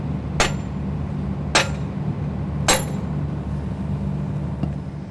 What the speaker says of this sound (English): We give the pin a tap with a hammer to get it started.